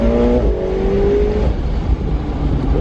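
A McLaren 720S Spider, a 720-horsepower rear-wheel-drive sports car, accelerates hard, its engine a loud, close, continuous roar with rising tones as it pulls.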